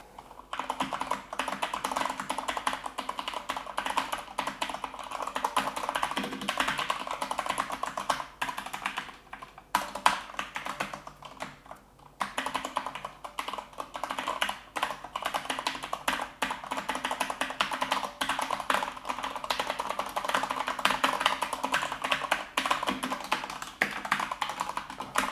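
Continuous fast typing on a Corsair K100 RGB mechanical keyboard, dense rapid key clicks close up, steady throughout with a brief pause near the middle, no voices.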